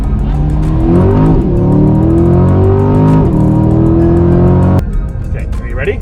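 A Chevrolet C8 Corvette revs hard and accelerates fast, its engine note climbing through rising gear sweeps, loud and close from inside the car, then dropping off abruptly near the end as voices talk.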